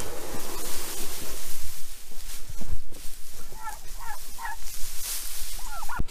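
Turkeys on a snowy farm gobble in several quick bursts of rapid rattling calls, fairly close, over a steady rushing background noise.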